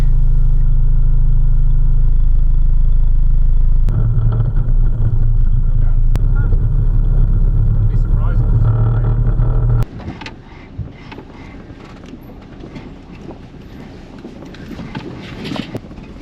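Big Jack 16 truck carrying a water tank cabin grinding along off-road, a heavy low engine rumble with thumps and rattles that drops away partway through, leaving quieter crunching and knocking movement.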